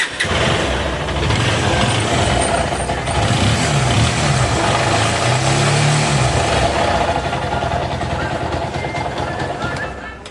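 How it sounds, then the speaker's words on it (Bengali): A Bajaj Pulsar 220 motorcycle engine with a connecting rod, piston and balancer fault starts and runs steadily, a loud mid-pitched rumble filling the whole stretch with faint knocking under it. "তো আমি গাড়িটা স্টার্ট করব, এখন আওয়াজটা শোনাই।"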